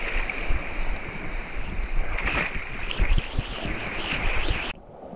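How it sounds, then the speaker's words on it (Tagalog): A small waterfall with rough, choppy water gives off a steady broadband rush close by, with splashing and wind buffeting the microphone, cut off abruptly at the end. "Ayan, pinuntahan ko itong isang falls, mini falls. Maalon."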